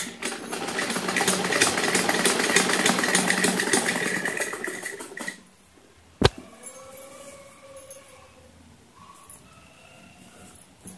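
A sewing machine stitching salwar fabric runs with a loud, steady whirring drone for about five seconds, then stops abruptly, followed by a single sharp click and quiet fabric handling.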